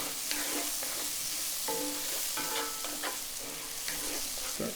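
Chicken in a pan being stirred with raspberry preserves and balsamic, spoon scraping and clinking in irregular strokes over a steady low sizzle, close and moderately loud.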